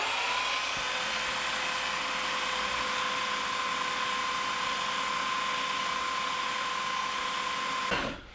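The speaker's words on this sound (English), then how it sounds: "we're just gonna reduce the diameter a little bit on the belt sander," A belt sander grinds down the diameter of a fiberglass ring for a high-power rocket, a steady loud whining drone that runs unbroken before cutting off abruptly at the end.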